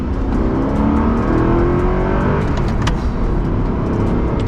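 An Audi R8's 4.2-litre V8 revs loudly on a downshift, a continuous throaty roar that climbs in pitch and holds strong throughout, with no talking.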